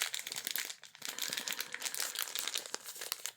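Close, soft crinkling of a plastic bag wrapped around a light, a dense stream of quiet crackles and rustles with no voices.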